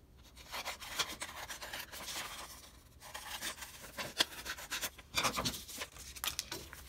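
Paper shapes being cut out with scissors after ruling straight lines, soft close snips and rustling paper in irregular bursts, quiet and alone.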